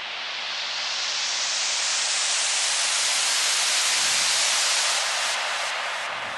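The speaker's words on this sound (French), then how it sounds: "Moi, ça, c'est mon propre white noise" A self-made white noise layer in a song produced in Ableton Live, a steady, bright hiss that slowly swells and fades, heard alone.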